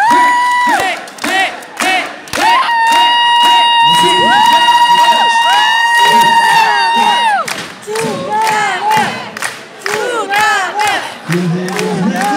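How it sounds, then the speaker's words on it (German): A concert crowd at a show at a shooting club's winter festival in Hamm-Heeßen cheers loudly, with sustained shouts and whoops over rhythmic clapping. "Alle klatschen da!"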